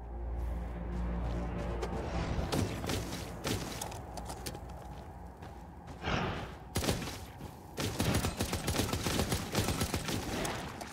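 Weapon fire in the space twin-stick shooter game From Space: rapid bursts of shots crackle through a steady electronic game soundscape, heaviest in the second half, with no talk over them.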